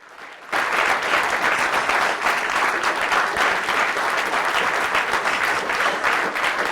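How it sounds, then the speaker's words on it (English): A debate crowd at Gonzaga breaks into loud, sustained applause with scattered cheers after the judges' 3-2 decision. It erupts abruptly and carries on as a thick, even roar of clapping. "The applause for Gonzaga lasted more than 2 minutes, and cheers rang out for the pair."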